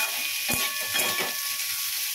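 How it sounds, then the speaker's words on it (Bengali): Ridge gourd and potato pieces with green chilli frying in a pan, a steady close sizzle with a few brief stirring scrapes and no voices. "একটু ভাজা ভাজা হোক ততক্ষণের জন্য।"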